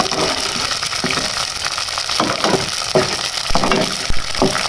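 Cheerh frying in hot ghee for a desi halwa, a steady sizzling hiss with soft scraping and clinks as a spoon stirs through the pan, fairly close and continuous.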